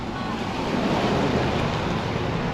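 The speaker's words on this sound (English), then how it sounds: "it just pours in from the ocean when the tide's coming in" Ocean water rushing in through a new channel into an estuary at Isla Juan Venado Wildlife Reserve, Las Peñitas, Nicaragua, as the tide comes in: a steady, loud broadband roar of surf and flowing water with wind buffeting the microphone throughout.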